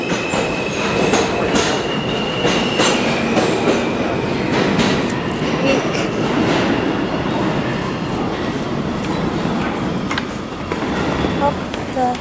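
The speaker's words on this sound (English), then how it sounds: "the train kept moving and moving" A New York City subway train in motion, with a constant loud rumble, rhythmic wheel clatter and occasional high metallic squeals throughout.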